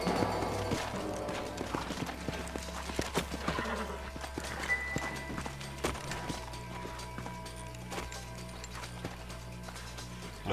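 A horse in the Red Dead Redemption video game clip-clops along with repeated hoofbeats in an uneven rhythm, gives a whinny, and a low drone runs underneath, fairly close and moderately loud, with no talk.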